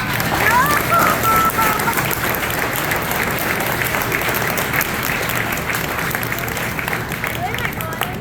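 A crowd applauding at the opening of a Publix grocery store in San Marco, with loud, dense, sustained clapping and some cheering, plus a few voices mixed in.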